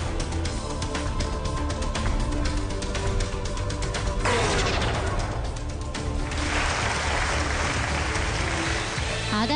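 Studio audience applause on a Chinese dating show, dense steady clapping mixed with music and some talking, lasting around ten seconds.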